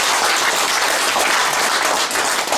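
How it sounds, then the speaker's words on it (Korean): Dense, loud applause from a crowd at a Korean public-corporation gathering holds steady without breaks or voices. "광역공단 감사단은 박수 한번 치고"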